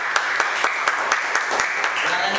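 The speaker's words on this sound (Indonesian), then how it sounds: "Oke, tepuk tangan buat Azril." A classroom of students applauds a classmate named Azril, a steady wash of many hands clapping at close range with sharp individual claps popping out through the whole stretch.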